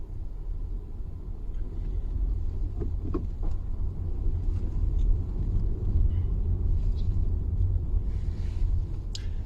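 Car driving, heard from inside the cabin: a steady, loud low road-and-engine rumble that fills the whole stretch with no let-up and no talk.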